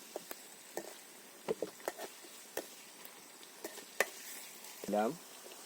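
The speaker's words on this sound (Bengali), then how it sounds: "এই যে লবণ দেওয়ার পরে আমরা এগুলো একটু আবার নেড়ে নেব" Ingredients frying in a pan over an outdoor cooking fire in the Sundarbans, with salt just added, are stirred in short scrapes and clicks over a soft sizzle, with a brief squeaky sound near the end.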